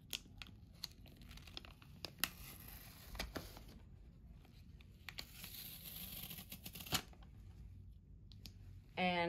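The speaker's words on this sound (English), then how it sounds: "Then, remove the covers to the stickers." Backing covers peel off the adhesive stickers of a medical stabilization device for a pigtail chest drain, giving quiet close crinkles and ticks in scattered bursts against near silence.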